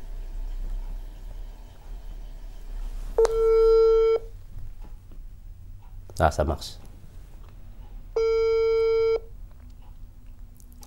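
A phone call rings out on the line: two long electronic ringback tones separated by a pause, with a brief clattering handling noise between them and a short spoken remark in French.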